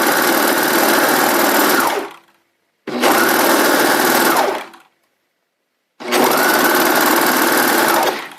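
A sewing machine stitches the seam of pajama pants in three sustained loud runs of steady motor whir, each about two seconds long, separated by brief silent pauses.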